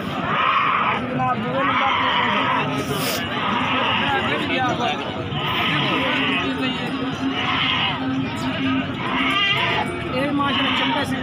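Goats bleat at a busy livestock market for large goats, repeated calls rising over constant crowd chatter and nearby voices throughout.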